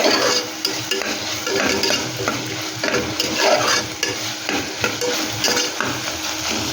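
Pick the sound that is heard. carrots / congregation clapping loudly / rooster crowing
carrots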